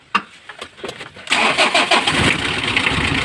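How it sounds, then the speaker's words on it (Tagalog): A car engine with an old battery, hard to start, turns over on a jump start. A few clicks and short cranking bursts come first, then it catches and settles into a loud, steady idle. "So magja-jump start na lang tayo."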